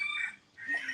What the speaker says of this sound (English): Oh, I just hear another rooster starting up.